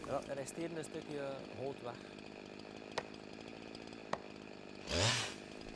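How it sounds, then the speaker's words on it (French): A chainsaw cutting through a tree trunk while felling a tree drones steadily in the background while someone talks over it, then the engine revs up in a loud surge near the end. "Et ensuite seulement, je scie ce qu'il reste."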